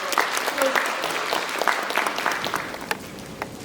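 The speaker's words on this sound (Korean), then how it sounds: "박수로 맞아주십시오" Theater audience at a post-screening guest talk giving a warm round of applause to welcome the guests, dense clapping throughout with a voice briefly audible over it.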